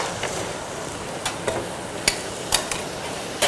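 A spatula scrapes and clinks in a pan over a steady sizzle of frying potatoes on moderate heat, with a few sharp taps as they are stirred.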